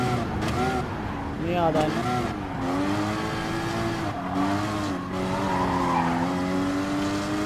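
A nearly stock Porsche Cayman GT4 Clubsport races in Gran Turismo Sport, its engine revving up and down through gear changes while tyres squeal in the corners, with someone talking over it.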